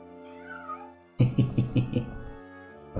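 In Daggerfall Unity a cat lets out a quick burst of loud, close meows that follows a faint tonal ambience and a soft musical background.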